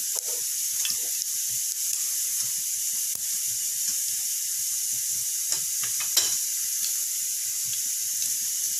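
Mustard seeds popping and sizzling in hot oil in a kadhai as tempering for chole masala, a constant bright hiss dotted with sharp crackles and pops, close and alone.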